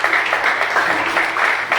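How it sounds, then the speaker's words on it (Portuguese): A church congregation applauds together in a steady, continuous wash of clapping that holds at an even level throughout, without any voices standing out. "Aplauda o Senhor Jesus"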